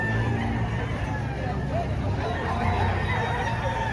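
Sweater Gray gamecock rooster, two years old, at a busy chicken market, crowing over loud crowd babble, other fowl clucking and occasional passing cars.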